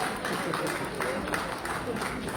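Scattered, uneven clapping from a seated audience at a seminar in a hotel hall, with rhythmic bursts of clapping under a speaking voice.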